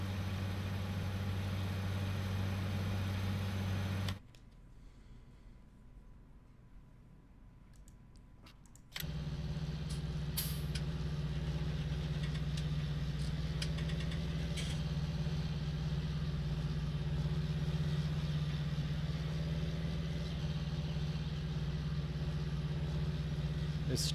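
Steady low drone of a tractor engine with planter in Farming Simulator 19, running continuously and fairly loud, cutting out briefly for a few seconds before resuming, with faint clicks scattered over it.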